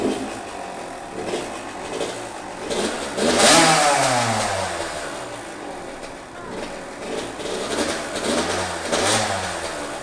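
A 2016 Kawasaki KX85 85cc two-stroke motocross dirt bike engine revs up and down repeatedly up close, loud and raspy with rising and falling pitch sweeps.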